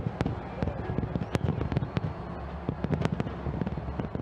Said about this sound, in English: The New Year Eve celebration started from New Zealand with iconic fireworks and laser light animations in Auckland